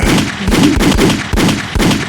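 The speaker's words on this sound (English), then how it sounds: "Come on, give me a little gunshot." Repeated sharp gunshot blasts, about five evenly spaced bangs, loud and close with booming low-end impacts.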